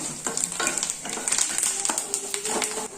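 Tempering spices sizzle and crackle in hot oil in a pan, with irregular pops and spatters throughout and a steady frying hiss, fairly close.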